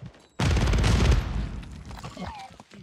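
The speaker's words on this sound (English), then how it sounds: "he killed himself with a nade" A grenade detonating in Modern Warfare 3 online play: a single sharp, loud blast that rings out and fades over about a second, with a voice faintly heard afterward.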